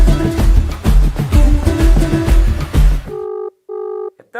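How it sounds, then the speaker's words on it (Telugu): Music plays loudly for a few seconds, then stops as an outgoing call starts ringing: two or three clean, regular ringback tones sound alone, with no talking. "రింగ్ అవుతుంది ఆల్రెడీ"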